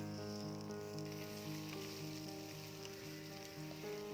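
Chopped onions and peeled garlic sauté in hot oil with a soft, steady sizzle, faint and continuous under a sustained musical background, with no talking.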